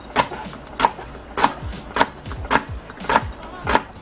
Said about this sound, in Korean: 열렬한 칼질.